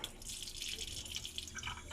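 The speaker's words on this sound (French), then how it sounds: "Alors ici, vous allez ouvrir simplement le robinet." A lab tap opened to decant the supernatant from a urine sample tube gives a soft, continuous trickle and watery hiss with faint dripping, heard alone at low volume.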